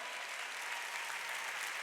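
A church congregation claps together at a Sunday worship service, producing steady, dense applause that fills the room for a moment without pause.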